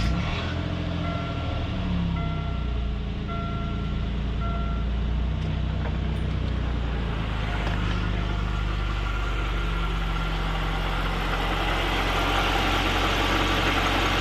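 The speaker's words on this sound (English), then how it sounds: "Just a very quiet engine" A hand-built Aston Martin engine idles steadily and quietly with a low, even exhaust burble and a constant hum throughout, no voices over it.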